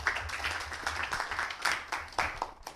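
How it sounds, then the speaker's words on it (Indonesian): A classroom full of people clapping together for a few seconds, a steady patter of many hands, fairly close. "Tepuk tangan untuk kalian semuanya"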